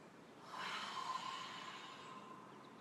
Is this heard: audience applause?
no